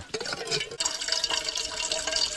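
Spring water pours steadily into a pot outdoors in the mountains, a bright splashing rush with gurgles, close by and continuous.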